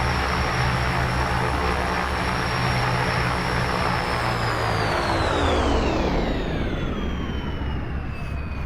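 A Quest Kodiak turboprop in X-Plane 11 spools down through its shutdown, a steady loud engine drone whose whining tones slide lower over the last few seconds as the propeller winds down, with no talking.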